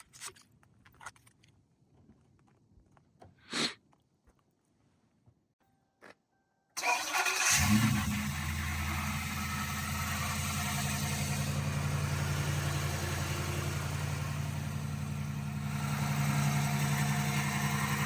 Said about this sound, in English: I'm gonna let her start the car so y'all can hear how the belt sounds